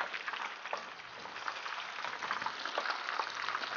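Soft, fine crackling and bubbling of battered shrimp frying in hot oil, quiet and continuous, with no voices present.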